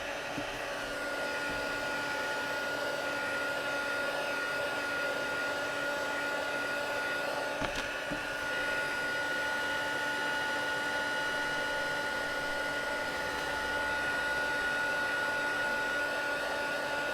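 A handheld dryer blows steadily to dry ink on a watercolour emboss-resist piece, giving a constant whirring drone that runs close and unbroken throughout, with no talking.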